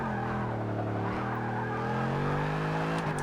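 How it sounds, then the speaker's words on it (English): Dodge Charger Hellcat with its Hemi engine revving hard in the racing game Forza 6, a loud sustained engine note rising and shifting pitch through gears, with some tire skid noise and no talk. "Just like in the Challenger, it's the same Hemi engine. It just revs out so hard."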